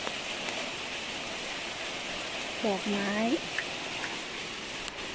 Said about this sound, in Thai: โอ้ยฝนตกอย่างนี้